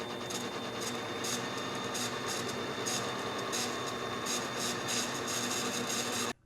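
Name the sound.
CNC lathe parting off a washer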